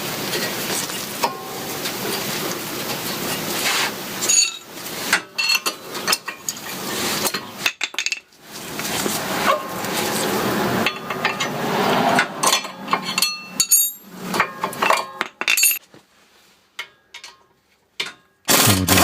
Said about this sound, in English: Then we'll take the pads out.